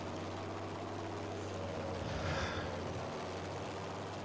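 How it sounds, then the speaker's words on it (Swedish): A steady, droning video game bomber engine hum runs throughout, swelling slightly midway as the bomber passes, with no voices. "Där har vi ett till bombplan."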